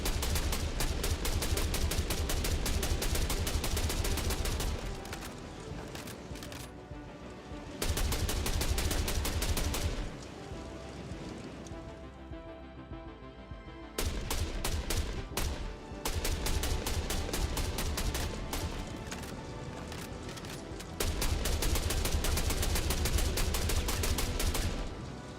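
Rapid automatic gunfire in Star Citizen, aimed at a vehicle's tire, coming in several long sustained bursts of dense crackling shots, with quieter lulls between the loud stretches.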